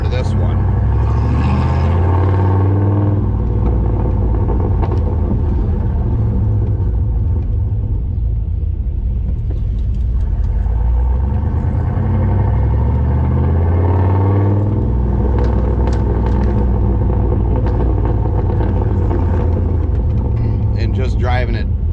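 A 1995 Ford F350 crew cab long box with a 460 V8 and an EFI conversion kit rumbles loudly from inside the cab while driving, its engine note rising and falling, with a voice talking over it.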